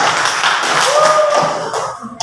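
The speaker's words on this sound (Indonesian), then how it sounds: "tepuk tangan untuk kelompok 2" Group 2 gets applause after a class presentation: a short burst of many hands clapping, dense and steady, with a faint tone running underneath.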